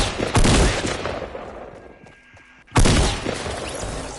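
Bursts of Fortnite video game gunfire crack loudly, one rapid volley at the start, a lull with quieter shots and distant effects, then another loud burst near the end.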